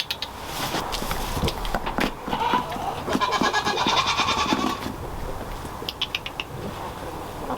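A goat receiving prenatal care gives several nearby bleats, mixed with shuffling hooves, rustling and handling noises.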